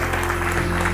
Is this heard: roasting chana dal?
no